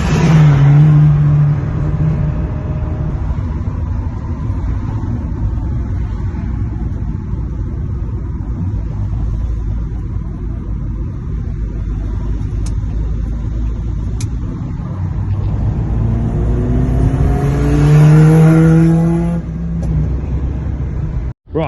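A Metro GTI fitted with a 160 VVC K-series engine and Lotus Elise running gear accelerates hard, its rising engine note climbing through the gears with a loud, rumbling pull, then a final surge and sharp stop.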